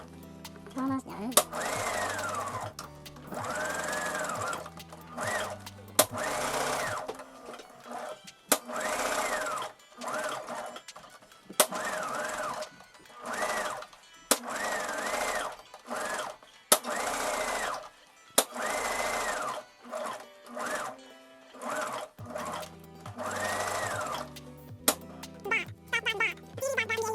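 Sewing machine stitching headbands, its motor whirring in repeated short bursts that start and stop every second or two, with brief pauses between runs.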